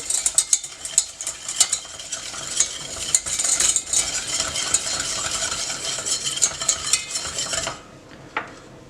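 Eggs and sugar whisked together in a bowl for a puff-pastry cake, a rapid, steady clatter of whisk against bowl that stops near the end, with one last light tap after.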